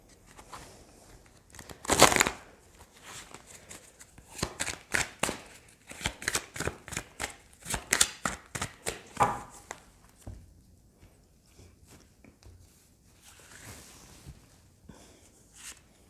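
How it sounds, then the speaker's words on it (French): Rider-Waite tarot cards are shuffled and handled close by, producing a quick series of crisp riffling snaps and flicks in bursts, with quieter rustling between them and no talking. "je vais prendre 3 cartes du tarot Rider-Waite"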